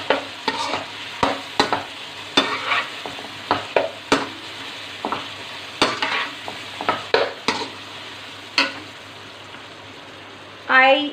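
Mutton karahi masala with whole spice powder, garam masala and green chili paste being stirred in a frying pan: repeated sharp scraping strokes over a soft sizzle, irregular rhythm, close and loud, ending with a brief louder hiss.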